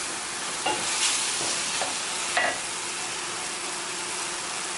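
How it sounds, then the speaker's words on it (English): Mushrooms sauté in a pan with a steady, even sizzle, broken by a few scraping stirs of a utensil, close and without voices. "So I'm going to saute this for a bit so that the mushrooms could release the water."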